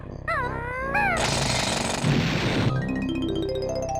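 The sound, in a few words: drilling with the drill from the video game Banjo-Tooie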